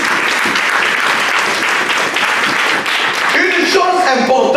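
A church congregation applauds and cheers in praise during a sermon, with loud, dense, steady clapping that fills the room throughout, and voices calling out within it.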